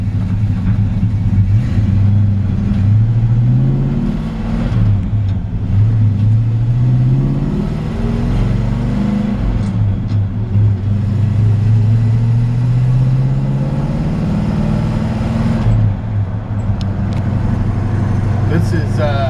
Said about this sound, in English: This is a 1965 Chevrolet C-10 pickup truck. I'm gonna take her for a quick drive